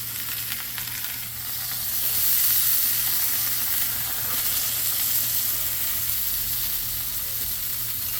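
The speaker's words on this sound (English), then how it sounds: "I want to crisp up those tortillas a bit" Tortillas crisp on a hot griddle beside onions and smash burger meat, giving a steady close sizzle that swells slightly after the first couple of seconds and holds on without talk.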